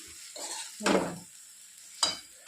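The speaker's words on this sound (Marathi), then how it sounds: "आता याला छान फ्राय करून टाकायचं." Green chilies frying for upma in a pan over a raised gas flame, with a steady soft sizzle broken by a few louder scraping stirs of a spoon against the pan.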